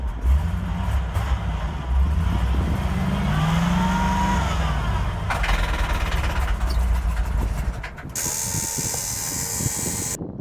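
An old dump truck engine idles with an internal fault, giving off a continuous rough mechanical clatter and ratcheting that stays loud and close, then ends in a brief higher-pitched whine.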